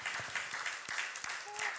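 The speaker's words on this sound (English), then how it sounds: "I wanted to make an applause for all the speakers and for you too." A conference audience applauds the speakers with steady, fairly faint clapping from a room-sized crowd, continuous throughout with a brief tonal sound near the end.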